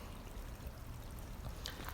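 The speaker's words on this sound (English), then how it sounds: "a little bit of water coming down" A small stream of water trickles down over rocks beside a hiking path, a steady, soft, continuous wash with no voices.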